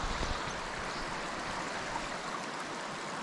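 A small creek flows steadily over a bushland track, a continuous broadband rush of water with no talking, close and even throughout.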